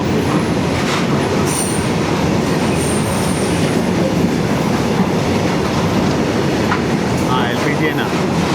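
An LPG tanker freight train rolls past a moving Duronto Express, a loud steady rumble of wheels with faint clatter and a brief squeal, continuous throughout with some background talk.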